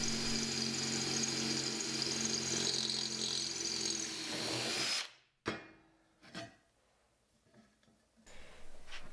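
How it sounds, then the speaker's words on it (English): Hand drill boring holes in a metal piece, a steady whirring drone that cuts off sharply halfway, followed by a few brief bursts and clicks. "so I'm just using a hand drill."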